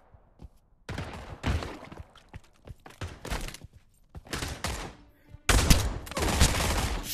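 Gunfire in the virtual reality shooter Pavlov VR: bursts of sharp shots and rapid automatic fire come in irregular clusters, growing into a dense sustained barrage toward the end, loud and close.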